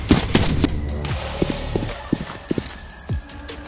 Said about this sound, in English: Heavy Tactical Footsteps mod is a mod that outputs a very heavy footstep sound